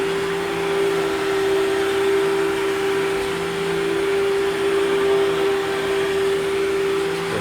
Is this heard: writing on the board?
no